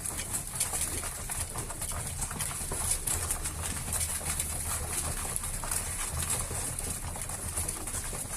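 Young pigeons feeding on a diet ration, with soft cooing and busy pecking and scuffling, steady and continuous at a moderate distance, with no one speaking.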